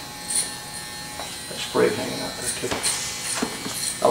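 Electric hair clippers fitted with a number two, quarter-inch guard buzz steadily close by during a haircut, with someone talking over the hum throughout.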